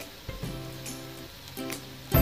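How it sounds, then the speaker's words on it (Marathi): Aloo tikki shallow frying in a pan, a steady soft sizzle with a couple of brief louder bursts and a sharp crackling flare at the end as the patty is turned. "आता पलटी मारल्यानंतर या दुसऱ्या पण बाजूने आपण साधारणतः 2 मिनिटांसाठी आलू टिक्की शॅलो फ्राय करून घेणार आहोत"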